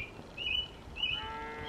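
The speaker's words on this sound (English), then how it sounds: "You can hear birds behind us, you can hear the cows mooing." Birds chirp outdoors at a cattle ranch: two brief, high chirps about half a second apart, followed by a thinner trailing call, all faint over a steady outdoor background hum.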